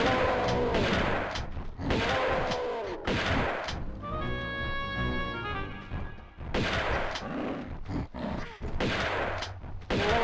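Shotgun blasts in the Tomb Raider II video game ring out as several loud, sharp reports in bursts, with a brief tonal chiming lull in between.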